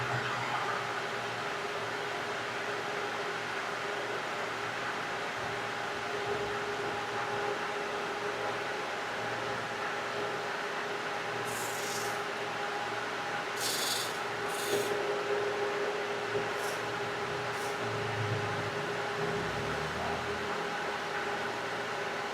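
The stock 14-inch radiator fan of a 2014 Toyota Vios runs steadily as a loud, even rushing whoosh with a faint tonal hum. A few brief higher hisses occur midway, and no one talks.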